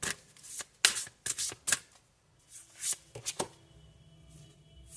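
Tarot cards shuffled and drawn in a series of crisp riffling bursts and soft slaps, close and moderately loud, with quieter shuffling between them.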